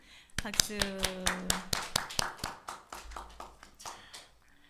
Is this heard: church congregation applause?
yes